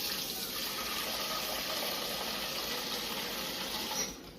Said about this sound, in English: we're going to put some water.